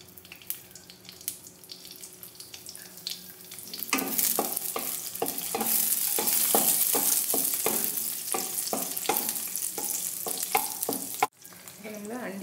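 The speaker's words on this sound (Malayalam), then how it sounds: "അപ്പോൾ നമ്മൾ അണ്ടിപ്പരിപ്പ് വറുത്തെടുത്തു" Cashew nuts frying in ghee in a pan, with a steady sizzle rising after a quiet start, broken by repeated sharp stirring scrapes and clinks at close range.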